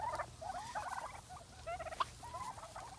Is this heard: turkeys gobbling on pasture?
yes